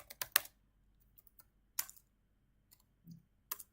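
Typing on a computer keyboard: a quick cluster of sharp key clicks, then a few scattered taps with gaps between them, close and fairly quiet in an otherwise still room.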